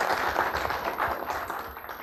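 Audience applause at a leadership communication class, a steady wash of clapping from a group that stays even and fairly loud for about two seconds with no voices over it.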